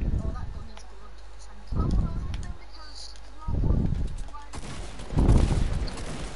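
Bursts of gunfire in a first-person shooter video game, four separate clusters of rapid shots spaced a second or so apart, loud and punchy against a quiet game background.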